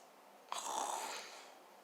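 A storyteller's voice imitates a giant snoring: one drawn-out, rasping inhaled snore, close and fairly quiet, starting suddenly and fading within about a second.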